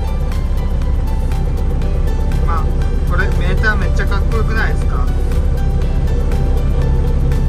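A newly delivered Iseki combine harvester engine runs close by with a steady low hum and rumble throughout, while someone talks over it.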